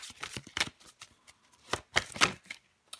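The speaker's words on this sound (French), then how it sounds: "Je vais prendre encore une carte" Playing cards handled during a tarot-style reading: quick papery shuffles and flicks as a card is drawn from the deck, several short crisp bursts close to the mic with brief quiet gaps between them.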